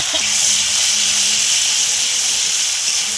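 Spices such as cardamom, cinnamon, ginger, green and Kashmiri chili with tomato and salt sizzle in a pan for paneer bharta, giving a steady, loud, close hiss that holds evenly throughout.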